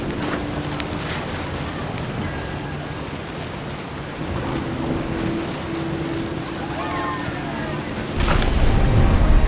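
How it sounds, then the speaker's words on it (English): Heavy rain hisses steadily with deep rumbling thunder in the game What Remains of Edith Finch, and a louder low thunderous swell builds near the end. "Thunder sounded much too close and full of angry power."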